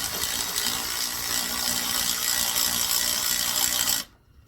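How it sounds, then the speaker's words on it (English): A ratchet cranks steadily during an oil leak repair, a fast, close clicking that keeps an even pace for about four seconds and then stops abruptly. "You can do it with a ratchet, no problem."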